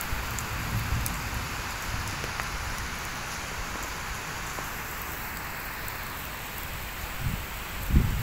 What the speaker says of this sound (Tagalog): Inabutan kami ng ulan dito sa Layasan.